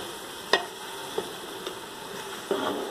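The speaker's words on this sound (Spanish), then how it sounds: "procedemos a agregarla a la pitadora" Chopped vegetables and crushed garlic tipped into a pressure cooker, a few soft clattering drops and scrapes, one sharper knock near the start, over a quiet background hiss.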